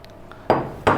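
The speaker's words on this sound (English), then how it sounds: "We're going to just tip in the chicken. There's enough oil there for us to be frying it with." Chicken tipped into an oiled skillet hits the pan with two close, sharp clattering impacts, each followed by a brief sizzle, heard nearby with no talk.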